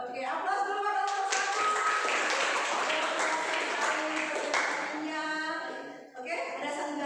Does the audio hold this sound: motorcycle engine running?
no